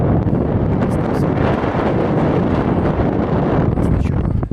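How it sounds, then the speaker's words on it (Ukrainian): Strong, continuous wind off the Dnipro River on a cold day buffeting the microphone, a loud, dense roar with gusty low rumble throughout. "Сьогодні холодно. Все-таки вітер тягне оттуда."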